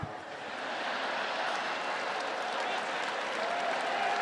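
A rally crowd at a Trump 2020 campaign kickoff applauds in a dense, sustained wash of clapping. It holds steady and loud throughout, swelling slightly after the first moment.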